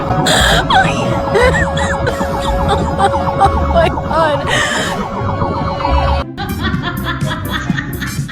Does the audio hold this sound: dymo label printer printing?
no